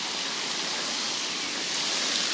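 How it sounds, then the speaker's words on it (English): Water drops fall steadily from above at a campsite, forming a soft continuous hiss with no voices. "drops are coming down from above"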